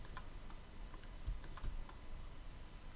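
Soft, scattered keystrokes on a computer keyboard during 3D modeling work, including a Ctrl R shortcut press, faint clicks over a steady hiss of background noise.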